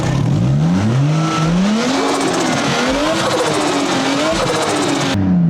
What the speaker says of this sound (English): Do you want to hear the turbo noises?